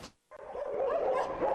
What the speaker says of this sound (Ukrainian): Пес на ім'я Платон мешкає у притулку два роки.